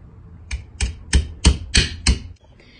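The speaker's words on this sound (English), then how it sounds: "you will take your 2 small nails and you will hammer them onto the sides" Six sharp, evenly spaced hammer blows drive small nails into the wooden lid of a carpenter bee trap, loud and close, followed by quiet.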